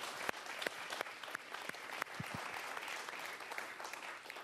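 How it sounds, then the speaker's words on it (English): An audience claps for a panel at a talk on investing in China and India. The crowd's applause is fairly faint and sustained, with a few sharper individual claps standing out. "Please give a round of applause for them."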